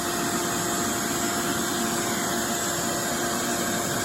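A vacuum cleaner hose sucks dust and debris out of an RV furnace, giving a loud, steady, unbroken roaring whoosh that holds level throughout with no talking.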